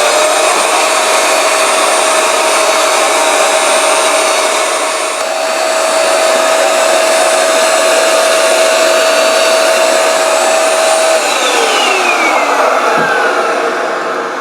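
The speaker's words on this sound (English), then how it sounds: "I'm going to use this small vacuum to pick up the excess" Small vacuum cleaner sucking up loose static grass ground cover on a model scenery base, a loud steady whining drone running continuously, close by, pitch dipping slightly near the end, with no talk.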